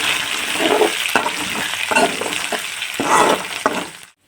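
Green and dried chillies stirred into a sizzling tempering for Bengal gram dal kulambu, a close, steady frying hiss broken by several scraping stir strokes, with no talking.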